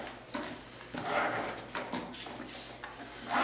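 Cardboard boxes for Planet Eclipse Etek AM and LT paintball markers being opened, with scattered rubbing, scraping and soft thumps of packaging handled close by, and a quiet hum in the background.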